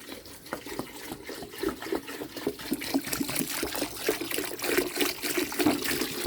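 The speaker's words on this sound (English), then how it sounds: "And now a gallon of the apple cider." A gallon of apple cider pours into a punch bowl with apple pucker, a steady splashing, gurgling stream with irregular glugs, moderately loud and close.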